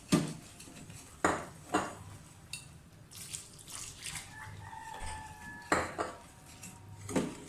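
Malpua batter being mixed in a bowl, with sharp clinks and scrapes of a utensil against the dish in irregular bursts, and a rooster crowing faintly in the background.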